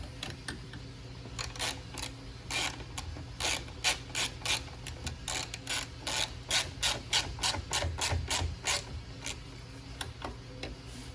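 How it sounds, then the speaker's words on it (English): Ratcheting wrench clicks in quick repeated bursts while nuts are tightened on the back rack of a Venom Grizzly ATV, using 8 and 10 wrenches; the metallic clicking comes close and steady, with no talking. "Now you take your number 8 and your number 10 wrench and you tighten everything down."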